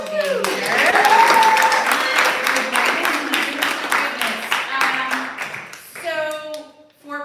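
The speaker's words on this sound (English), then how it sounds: "Give yourselves a round of applause for being here." An audience at a live Blue Hour event claps in a dense, lively round of applause that holds for several seconds, then thins out and fades as voices begin talking nearby.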